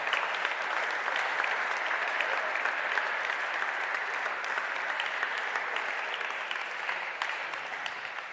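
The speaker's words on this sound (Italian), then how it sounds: "Vi prego di accoglierli con un applauso." An audience applauds musicians at a concert, with steady, even clapping from a room full of people that holds a constant level for over eight seconds.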